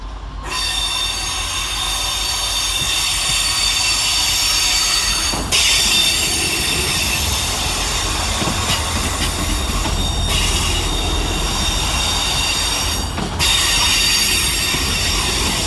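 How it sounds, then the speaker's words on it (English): Two East Midlands Railway class 158 diesel units pull into Sheffield station to terminate, their wheels squealing loudly and continuously on the rails with no talk. "Arriving to terminate with an East Midlands Railway service off Nottingham is 158799 and 158789."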